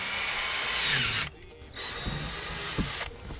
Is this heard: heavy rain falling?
no